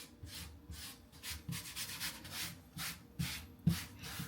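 Soft, close brushing strokes sweep excess flour off a pastry table, coming as a series of rhythmic rubbing swishes at a steady, fairly quiet level.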